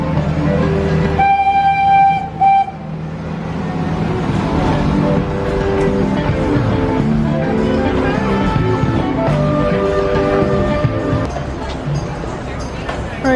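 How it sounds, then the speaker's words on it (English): The small Rafiki's Planet Watch train at Disney's Animal Kingdom rolls past with a couple of short horn toots, its engine rumbling under people chatting nearby. "Here comes Rafiki's Planet Watch train."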